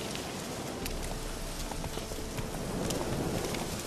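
In the video game The Witcher 3, a horse trots through rain with a quick, steady clip-clop of hooves over a constant patter of rainfall, moderately loud and without speech.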